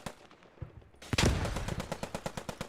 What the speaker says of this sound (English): Lauren there with a Sten gun, getting plenty.